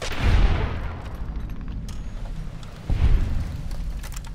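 Gunfire in Fallout: New Vegas while fighting scorpions: two heavy, booming shots roughly three seconds apart, each with a deep rolling tail, over a dim ambient background.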